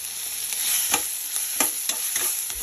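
Brinjal frying in a pan for chutney, a soft sizzle under repeated scraping strokes of a spoon stirring the pieces, several distinct scrapes spaced irregularly, close and moderate in level.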